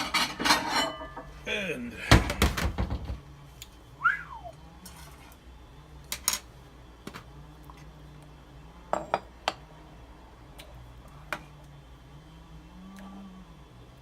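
Homemade New England clam chowder is ladled into a bowl, with a burst of clinking dishes and metal, then scattered light clinks and taps of a ladle against pot and bowl over a quiet, hushed background.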